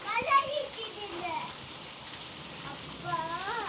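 Rain falling inside a house during a storm: a steady patter of drops on surfaces with a voice and other talk over it.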